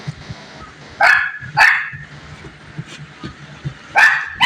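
A dog barks close and loud in a few sharp yips, two in quick succession near the start and another later, with quiet room noise between them.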